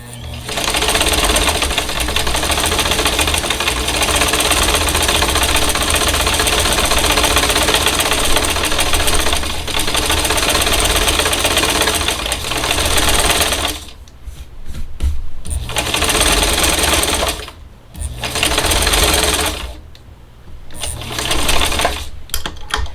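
Sewing machine stitching a country fall bowl filler, a loud steady motor whir running close for long stretches, broken by several short pauses before it starts again.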